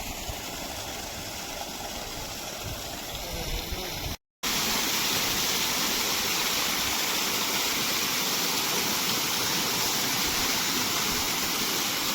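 Continuous heavy rush of water gushing from the outlet of an Ecozen 5 HP solar pump, close and loud, with a brief drop-out before the steady torrent resumes even stronger.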